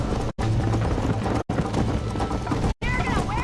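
Horse hooves gallop in a race in the Red Dead Redemption video game, a fast clip-clop rhythm under loud game sound with brief cut-outs between segments.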